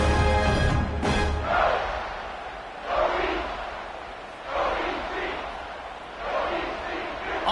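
Home crowd at a college football game, a loud stadium roar that swells in repeated waves of cheering and shouting.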